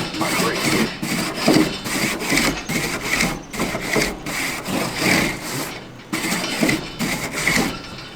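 A bristle brush dipped in olive oil scrubbed back and forth over a charcoal grill grate, a steady rhythmic rasping and scraping at close range with no pauses.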